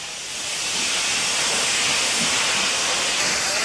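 Steam locomotives Scotsman and Pendennis, running in parallel through the Avon Valley passing loops, let out a loud, steady hiss of steam that swells within the first second and holds unbroken to the end.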